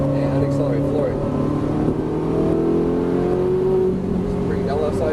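A Ferrari 458 Italia on a Las Vegas racing track accelerates at full throttle, its engine note rising steadily and loud from inside the car, with an instructor talking over it.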